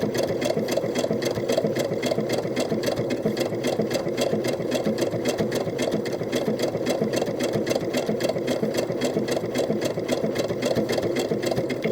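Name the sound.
sewing machine stitching doll clothes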